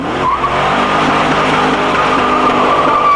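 A Pontiac SLP Firehawk on a ride roars loudly with a rising engine note while its tires squeal under hard driving, the squeal and engine blending into a continuous close, intense sound.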